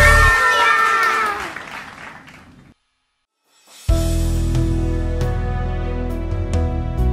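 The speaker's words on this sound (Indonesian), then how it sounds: "Berikan tepuk tangan sorak-sorai buat Tuhan" Children's worship service crowd applauding and cheering for God, a loud burst of clapping and shouts that fades to near silence, then resumes with music and clapping.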